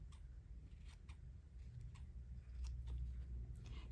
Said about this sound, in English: you can take your scissors just like before, and you can get any little tiny flyaways.